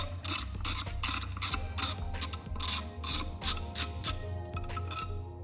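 Bolts being ratcheted out of a Husqvarna diamond head attachment on a concrete grinding machine, a close, loud run of rapid metallic ratchet clicks in repeated bursts, with short pauses between strokes.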